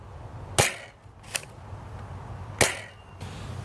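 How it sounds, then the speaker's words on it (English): Three sharp, close pops from a Dual Strike toy blaster firing standard Nerf darts, spaced unevenly with quiet gaps between shots. "Next, we have the Dual Strike firing standard Nerf."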